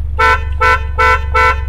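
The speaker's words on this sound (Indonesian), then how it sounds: "klaksonnya udah klakson keong ya, suaranya khas banget seperti BMW" A snail-type horn on a Toyota Vios TRD sounds four short, loud, evenly spaced honks with a bright, buzzy tone over a low engine hum.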